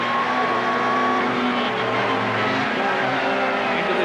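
1990 touring race cars roar past at Donington Park during a British Touring Car Championship round, a loud, dense engine drone that holds steady with shifting pitch, while a commentator talks over it.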